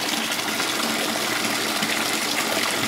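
Steady gushing water pours without pause into a holy water fountain at the Oropa sanctuary in Italy, close by and constant, with a light rain mentioned in the setting.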